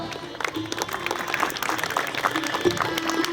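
An audience at a civic honouring ceremony for a road project in Bhavnagar claps, a dense patter of many hands that stays moderately loud and fairly close, with some crowd murmur mixed in.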